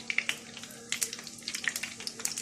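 Nut-filled qatayef fry in hot oil with close, crackling sizzle and scattered sharp pops spread unevenly throughout, over a low steady hum.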